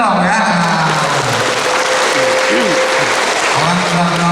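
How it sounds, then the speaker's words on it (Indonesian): Audience at a government ceremony for handing out civil service appointment letters gives loud, sustained applause, with cheering voices and talk woven through the dense clapping. "Tepuk tangan dong ya."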